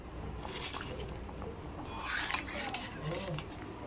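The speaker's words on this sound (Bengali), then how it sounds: "এবারে আমি ভেজে রাখা মাছগুলি দিয়ে দেবো" Fried fish pieces tipped into a pot of curry with boiled potatoes and elephant yam: clattering utensils, metallic scrapes against the pot and a soft wet stir, close and moderately loud.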